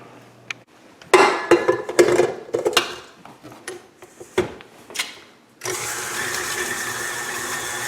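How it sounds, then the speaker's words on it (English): Dishes and utensils clink and knock, then an electric mixer starts up and whirs steadily through banana bread batter, a loud continuous hum close by. "take this over to the mixer and get it going"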